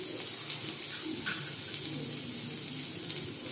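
Chhana mixture being sautéed in a pan, an even, hissing sizzle with light scraping stir strokes, close and steady throughout, no one speaking.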